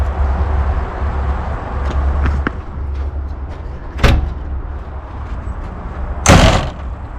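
Cab door of a CAT 926 wheel loader shutting with a solid thud, preceded by a few small clicks and knocks and followed by a second louder bang, over a low idling rumble.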